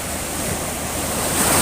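Sea waves surge at Ngelarap beach in Tulungagung near the Trenggalek border, a steady broadband wash of surf with some wind, loud and continuous and swelling slightly toward the end, with no voices.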